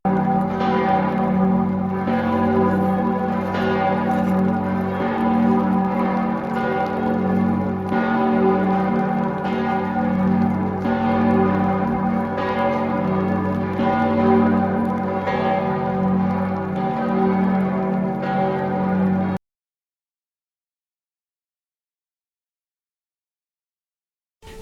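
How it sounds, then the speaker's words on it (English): Church bells ring in Passau, Germany, several large bells pealing together in a dense, continuous, resonant clangour that holds steady for about nineteen seconds and then cuts off abruptly into silence. "Then they started ringing the church bells for me."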